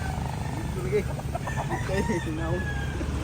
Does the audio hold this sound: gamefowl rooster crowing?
yes